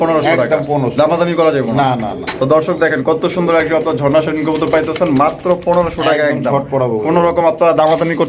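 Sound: pigeons cooing at a pigeon farm

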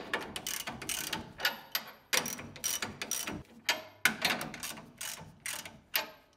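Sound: ratchet tightening U-bolt nuts on Ford Bronco leaf springs

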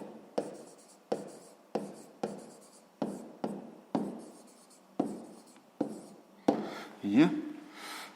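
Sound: writing down a math solution

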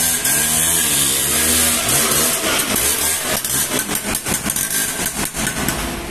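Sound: Lambretta scooter engine and exhaust

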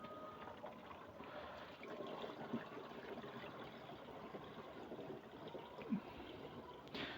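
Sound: pouring mixed Horus fungicide solution

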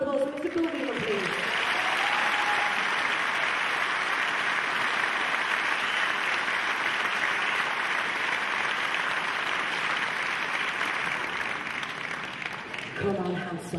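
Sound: audience applause at concert

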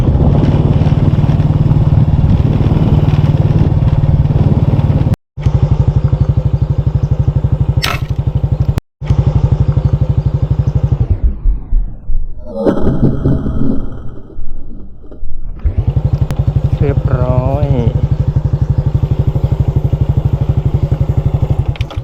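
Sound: motorcycle riding along a canal

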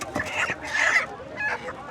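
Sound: native roosters clucking at a market

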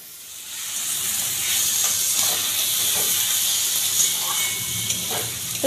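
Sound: Gobindobhog rice sautéing with spices in oil

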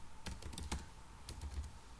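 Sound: typing C code on a computer keyboard

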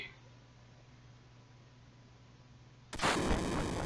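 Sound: explosion in a video game

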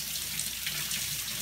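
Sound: kitchen sink tap running cold water

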